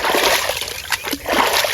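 Water splashing as a female mud crab caught in the Sundarbans is rinsed, a close, loud burst of sloshing and splattering lasting under two seconds.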